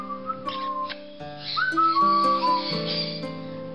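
Clear tonal whistles in varied pitches, some sliding, some held notes, from a parrot, fairly close with short pauses between phrases.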